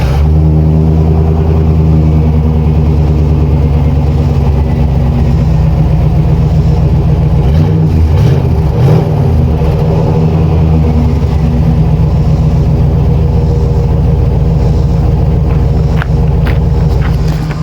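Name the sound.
1996 Chevrolet Cheyenne 2500 350 Vortec engine starting up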